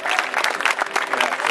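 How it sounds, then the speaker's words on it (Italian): An audience claps continuously, a dense, steady burst of applause from many hands. "facciamo un applauso al presentatore che è stato bravissimo"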